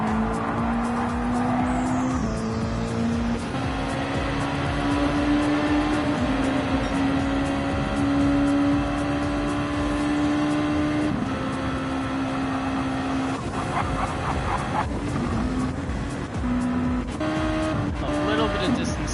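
Race cars in Gran Turismo 7 on the High Speed Ring roar steadily through a 400 race, with engine drone, tire squeal and skidding from a rear-end collision, while a commentator talks throughout.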